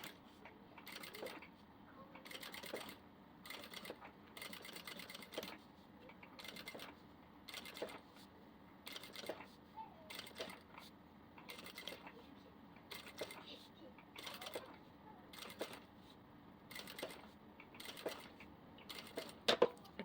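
A domestic sewing machine stitches fabric in a home atelier, its fast mechanical clatter coming in repeated short runs with brief pauses, fairly quiet and steady throughout the stretch.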